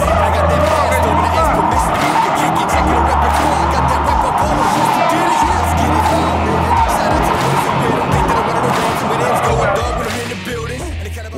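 Red Dodge Challenger accelerating hard in second gear, engine roaring loud and close while the tires skid and squeal continuously, the noise easing off only in the last second.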